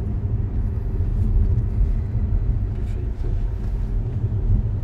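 A BYD Seal electric sedan accelerates lightly through a curve, heard as a steady, fairly loud low cabin rumble of road and motor noise that stays even throughout, with no talking.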